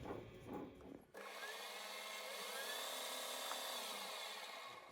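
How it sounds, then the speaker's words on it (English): A spotting drill bores into a metal workpiece turning on a lathe, a steady, loud, continuous whir with high-pitched cutting squeal that starts abruptly and holds for several seconds. "The spotting drill."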